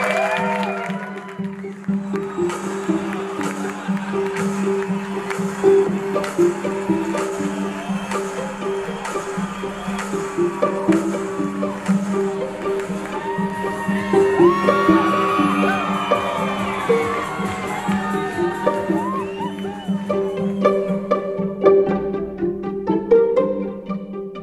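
A crowd at a drag show in a Cincinnati drag bar, the Cabaret at Below Zero Lounge in Over-the-Rhine, keeps up continuous clapping and cheering with scattered whoops and shouts over steady background tones.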